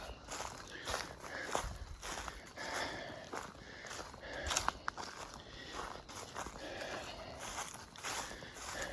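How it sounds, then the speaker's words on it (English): Footsteps crunch acorns underfoot along a steep, narrow hiking trail, a steady run of close, dry crackling steps with a few sharper snaps midway. "The crunching noise is me crushing acorns."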